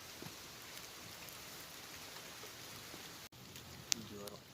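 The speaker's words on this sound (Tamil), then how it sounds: "கம்ப்ளீட்டாகவே மழை வந்துகிட்டே இருந்துச்சுங்க." Steady rain falls during a trek up stone steps toward a hilltop temple, an even soft hiss of drops with a brief dropout and a sharp tick near the end.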